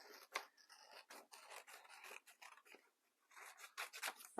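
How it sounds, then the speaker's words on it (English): Scissors snip through card while shaping a square pillow box, a run of close, crisp cutting strokes with papery rasps and brief pauses, no talk. "I'm going to cut using my scissors"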